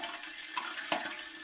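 Water left inside a beer can sloshes and trickles briefly, a faint, close liquid sound with a couple of small splashing accents.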